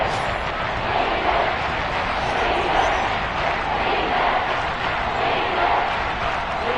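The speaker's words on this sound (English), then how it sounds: "this red zone is where the Seahawk crowd really makes it tough for an offense to communicate" Constant roar of a Seattle Seahawks home stadium crowd in a Madden football video game, a dense, steady wash of cheering that holds at one level throughout with no single voice standing out.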